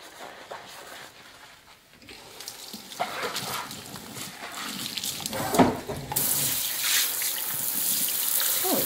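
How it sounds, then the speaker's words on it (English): Water runs from a faucet into a farmhouse sink during cleaning, a steady close hiss that swells louder toward the end as the flow splashes against the basin, with a dog barking briefly in the background. "I'm gonna go ahead and clean inside my sink down in here as well."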